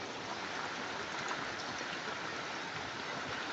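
Rainwater flowing during heavy rain with strong wind, a steady broadband rush of water, even and unbroken throughout.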